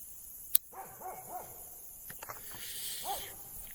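A guard dog in Romania gives a few short, fairly faint barks and yelps, spaced apart against a steady hissing background with no talking.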